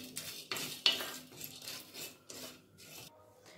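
Cardamom, cinnamon and cloves dry-roasting in a pan, with repeated dry raspy scrapes and rubbing strokes of a spatula against the metal, close and quiet, no talk.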